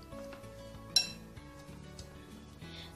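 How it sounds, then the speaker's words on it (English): A spoon or whisk stirs dry cake ingredients, powdered sugar and baking powder, in a bowl, with soft scraping and light clinks, one sharper clink near the start, close and alone. "Now I'm just going to give it a real quick mix."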